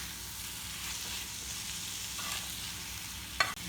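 Tawa chicken masala cooks in a pan with a soft, constant sizzle and faint stirring, fairly quiet and close, broken by one sharp clack of a utensil near the end.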